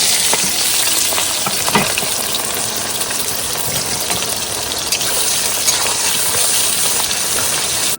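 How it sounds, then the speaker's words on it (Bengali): Onion and garlic fry in hot oil for crab and potato curry in a Sundarbans riverside setting, a steady loud sizzle with light stirring throughout, no talk. "তেল গরম হয়ে গেছে, এবার দিয়ে দেবো পেঁয়াজ রসুন।"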